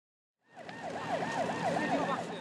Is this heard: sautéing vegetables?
no